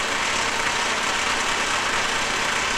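Husqvarna EE5 electric dirt bike held at full throttle, a loud, steady, broadband whir and rushing hiss that holds level throughout with no pauses.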